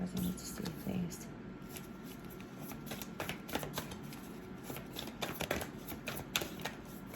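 Tarot cards are shuffled in a series of soft, quick riffles and papery flicks, close up, while a voice speaks quietly alongside.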